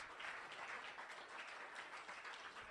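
Sustained audience applause at a poetry slam, a steady wash of many hands clapping at moderate distance, even and continuous with no talk over it.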